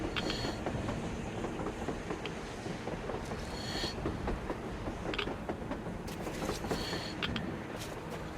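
Rail cars of a train in Metro Exodus rumble and clatter steadily close by, with intermittent metallic clanks and hisses over a continuous heavy rolling noise.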